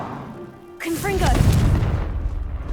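Confringo blasting spell cast in the Hogwarts Legacy video game: a single booming explosive burst with a crackling rumble that lingers, preceded by faint ambient game noise.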